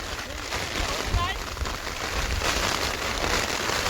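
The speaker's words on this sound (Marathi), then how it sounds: "पाऊस लय जोरात आहे" Heavy downpour in the Konkan countryside during rice threshing, a dense steady roar of rain striking surfaces with wind gusts, continuous and close throughout.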